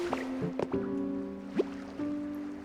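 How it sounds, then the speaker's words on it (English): A water gun fills a bathtub in the Pokopia video game with a few quick, wet drips and squishy splashes over a soft, steady musical hum. The splashes are scattered and fairly quiet, with no speech. "Filled by using water gun."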